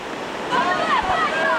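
Fast whitewater rapids on the Upper Youghiogheny River during a rainy-day rafting trip, a steady rushing roar with louder surges, and voices talking over it.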